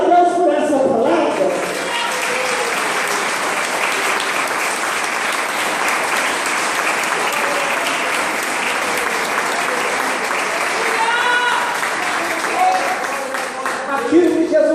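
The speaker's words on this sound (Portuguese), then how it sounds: "Será que dá para você aplaudir a Deus por essa palavra?" A church congregation applauds in a long, loud, continuous wave of clapping that fills the room and holds steady before easing at the end.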